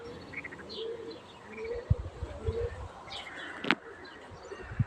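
Tumbler pigeons at an outdoor loft, with scattered chirps and soft cooing calls over a steady background hiss, broken by a few low thumps and one sharp high call near the end.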